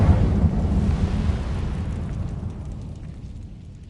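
An Incendio fire spell in a video game erupts in a heavy, close whooshing burst of flame, a loud rumbling roar that slowly fades away.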